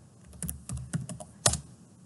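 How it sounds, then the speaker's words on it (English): Fingers type on a computer keyboard in a few irregular bursts of crisp, close clicks and taps, with one sharper keystroke near the middle, heard alone in a quiet room. "I can spell, I'm just not very good at typing, I apologise."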